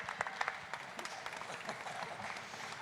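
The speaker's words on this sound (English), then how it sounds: "can we have a round of applause" An audience at a League of Legends esports finals at the Insomnia gaming festival claps steadily, a dense patter of applause heard at a moderate distance.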